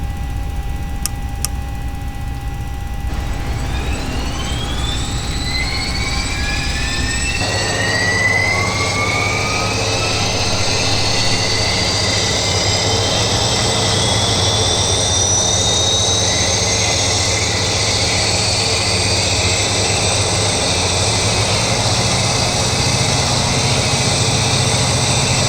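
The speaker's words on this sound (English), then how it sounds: "let's go ahead and start the other engine" A PMDG BAE Jetstream 41 turboprop engine in a flight simulator spools up from a low hum into a loud, rising whine. Climbing tones sweep upward for several seconds, then the engine settles into a steady, sustained roar.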